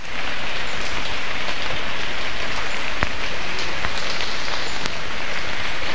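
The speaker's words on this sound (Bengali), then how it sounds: "দেখুন আজকে কিন্তু প্রচন্ড বৃষ্টি" Heavy rain pours down on the Melkhum forest trail in Sitakunda. It makes a loud, dense, unbroken roar of drops with occasional sharper splashes and no voices.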